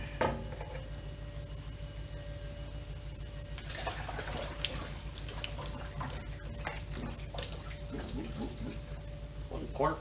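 Water pours steadily into a gas tank being prepared for a POR 15 sealing job, a continuous wet rush with splashy bursts, close by and filling the whole stretch, with faint background noise.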